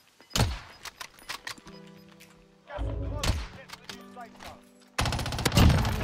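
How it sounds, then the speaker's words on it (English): Video game gunfire in Call of Duty Cold War Warzone, loud sharp shots and short bursts scattered across the clip with heavy rapid firing near the end, over game noise and players talking. "Keep shooting him, keep shooting him."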